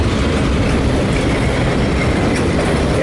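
A CSX eastbound freight train rumbles past at close range, loud and continuous, with heavy low roar and rattling wheels on rails.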